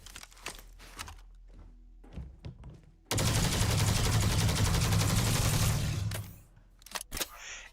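Rapid sustained gunfire from a weapon loaded with incendiary laser burn rounds in the sci-fi game Starfield, a dense continuous burst of about three seconds after a few scattered clicks, loud and alone.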